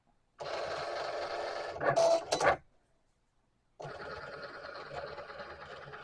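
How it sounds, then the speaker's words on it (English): A Cricut Explorer Air 2 cutting machine cuts a sticker sheet, giving off close, buzzing mechanical whirs with a couple of sharper motor bursts, a brief silent pause, then another stretch of steady whirring. "I'm going to push the Cricut buttons for it to cut."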